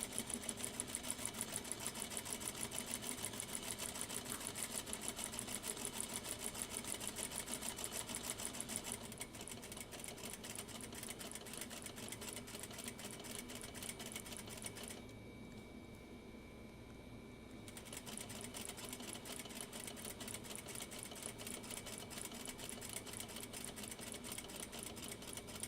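A sewing machine runs a 1/4 inch seam in a steady, continuous hum that eases briefly and then picks up again, alone and close.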